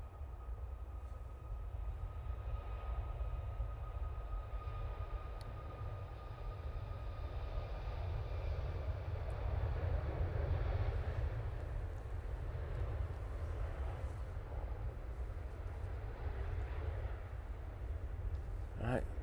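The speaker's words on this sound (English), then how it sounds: "Ryanair 737, Max 8, now on the roll." Ryanair Boeing 737 MAX 8 jet on its takeoff roll at Manchester Airport, a low, rumbling roar at moderate distance that swells slightly midway, with faint talk underneath.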